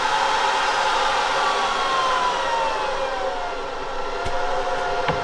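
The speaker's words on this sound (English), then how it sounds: "Now that is pumping out some air. And if I dial that back," A Rugged Air Pumper, a helmet air blower, gives a loud steady rushing hiss of air whose pitch slowly falls as the output is dialed back, heard close up without talking.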